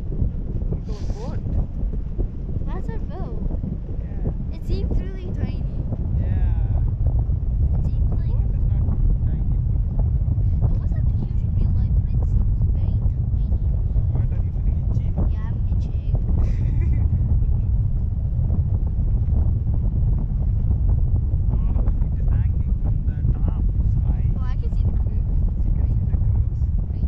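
Steady wind buffets the microphone over a low rumble of water and boat motion, with people talking intermittently throughout.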